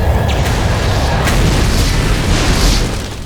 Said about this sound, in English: Nukes.